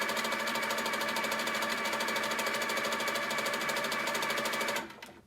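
A domestic sewing machine quilts stitches through a quilt with a rapid, even, close-up chatter of needle strokes that runs steadily for nearly five seconds before winding down and stopping.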